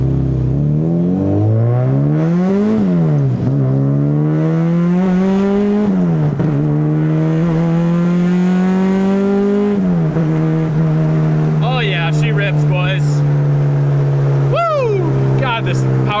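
A Honda Civic EK hatchback engine revs at part throttle, pitch climbing in repeated pulls and holding steady, loud and close, with a few high chirps near the end and no talking.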